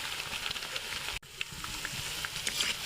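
Spinach and egg chops frying in oil on low heat make a soft, steady sizzle with scattered pops, briefly cut off for a moment before resuming.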